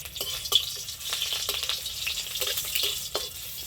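Black cumin seeds and green chillies tempering in hot oil for a vegetarian bean and poppy seed curry, a faint, airy sizzle with scattered small pops and stirring clicks.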